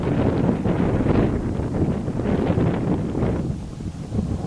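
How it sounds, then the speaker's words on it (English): Strong wind buffets the microphone outdoors in loud, rumbling gusts that rise and fall throughout. "It's a little windy outside"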